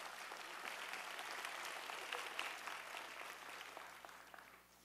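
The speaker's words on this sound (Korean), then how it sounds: "박수하시겠습니다." A church congregation claps together in steady, crackling applause that sounds faint and distant and tapers off toward the end.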